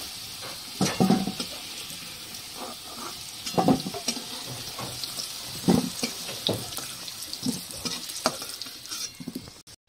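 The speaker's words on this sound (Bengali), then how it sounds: "তো আলুগুলো আমার ভাজা হয়ে গেছে, আলুগুলো উঠিয়ে নেব।" Potatoes sizzle and crackle in hot oil, with stirring and lifting clatter giving intermittent louder bursts over a steady hiss, close by, no talk.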